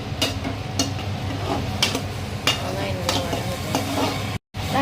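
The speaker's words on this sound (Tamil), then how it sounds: "நல்லா கிளறி விட்டுக்கலாம் ஃப்ரெண்ட்ஸ்" Onions stirred and sautéed in a pan for vegetable fried rice, with repeated scraping strokes of a spoon at a steady rhythm over a soft, continuous sizzle, close and moderately loud.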